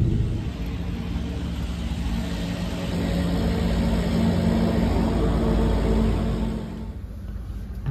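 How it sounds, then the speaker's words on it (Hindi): A Haryana Roadways bus cruising at speed on an open road, with a steady, loud low engine and road rumble that holds throughout and eases slightly near the end. "तो हरियाणा रोडवेज बिल्कुल अपने जाएगी स्पीड में।"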